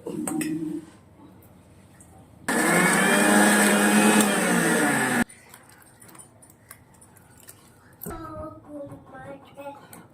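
A kitchen mixer grinder blends onions and green chillies for an egg curry in one loud, steady whirring burst of about three seconds, with quieter clatter and handling noises before and after it.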